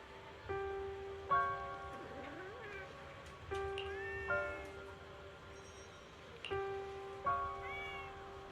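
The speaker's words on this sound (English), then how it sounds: "Oh, there's a cat over there." A cat meows several times, each call a drawn-out tonal cry with rising and falling pitch, spaced across a few seconds over a quiet game backdrop.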